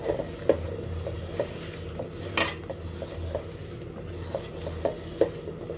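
Small fish being stirred in a pan for a Bengali spinach and small-fish dish, with repeated light clinks and scrapes of a utensil against the metal pan in an irregular rhythm, plus one brief louder rattle, close and fairly quiet, no talking.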